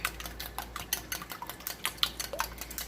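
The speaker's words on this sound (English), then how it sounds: "I'm over here whisking my eggs" Eggs are whisked in a bowl, a quick run of light clinking taps against the bowl's sides, close and fairly quiet with no voices.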